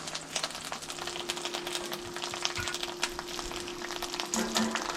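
Chorizo and eggs frying in a pan for breakfast, giving off a steady, fairly quiet sizzle with faint crackles and pops throughout and no talking.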